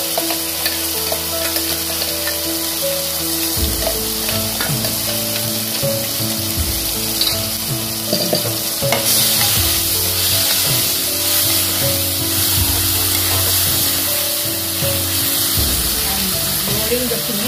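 Onion, tomato, ginger and garlic fry loudly in a pan with a dense continuous sizzle, while a spoon stirs and scrapes through the mixture in an uneven rhythm.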